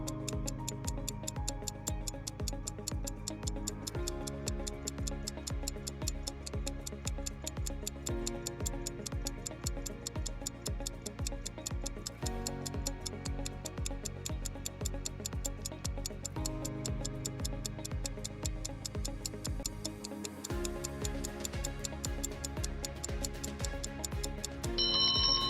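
A timer sound effect ticks steadily and rapidly, like a clock, over a looping musical backing for about twenty-five seconds, with no talking.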